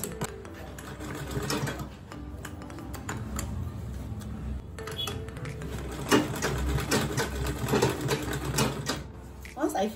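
Manual sewing machine stitching an Ankara fabric tote bag, a steady rapid mechanical clatter running nearly throughout with brief pauses, a person talking over it.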